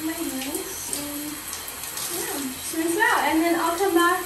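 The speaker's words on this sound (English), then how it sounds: "you can just rinse it out, just like this." Running water rinses shampoo out of hair at home, a splashing trickle that swells louder toward the end while someone talks over it.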